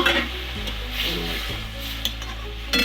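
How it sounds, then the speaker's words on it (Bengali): Chopped tomato goes into garlic already lightly fried in hot oil in a kitchen pan, a loud close sizzle with stirring scrapes and a couple of short clinks of utensil against the pan. "রসুনটা ভাজা হয়ে গেছে হালকা, এতে টমেটোটা দিয়ে দিচ্ছি"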